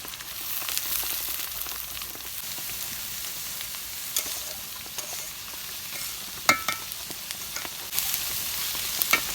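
Green chilies fry in hot oil with a steady sizzle, a continuous crackling hiss with occasional sharper pops, heard close up with no talking.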